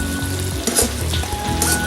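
Steak and garlic sizzle hard in a hot pan while being stirred, a loud continuous hiss broken by brief scraping and clinking of the utensil against the pan, with no speech.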